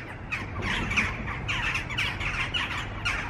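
Jackdaws call repeatedly, a flock giving short, harsh, overlapping chack notes in quick irregular bursts, loud and close with no voices.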